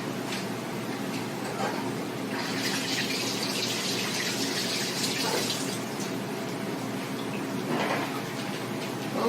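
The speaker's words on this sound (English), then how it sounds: "I'm gonna wash my hands" A kitchen tap runs steadily while someone washes their hands under it, a close, continuous rush of water with uneven splashing surges as the hands move through the stream, with no talking.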